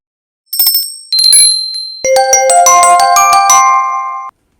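Tinker Bell's tinkling bell effect in a Peter Pan stage reading: bright bell chimes, a few separate rings followed by a cluster of overlapping tinkling tones that sustain and then stop abruptly, heard alone and clearly.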